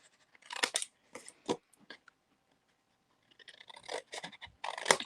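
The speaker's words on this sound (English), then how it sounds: "you can just take your scissors and cut it" Crisp snips of scissors cutting craft paper come in two bursts separated by a quiet pause, close and fairly loud.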